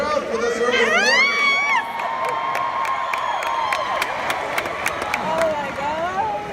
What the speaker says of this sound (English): This is a feisty crowd for this early in the morning.